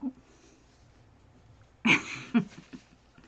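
A single sharp sneeze into an elbow, close and abrupt after a quiet stretch, followed by a softer breathy catch.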